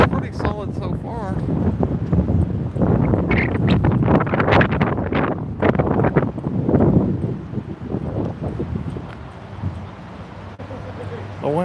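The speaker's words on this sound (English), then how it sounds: "We'll see how the inflatable holds up in the wind." Wind gusting outdoors at a protest outside an ICE building in Portland, buffeting the microphone in a steady low rumble that eases toward the end, with voices talking over it.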